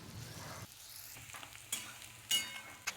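Chopped onions sizzle in hot oil in a pan as they are stirred, a soft steady frying hiss broken by a few louder scraping stirs near the end.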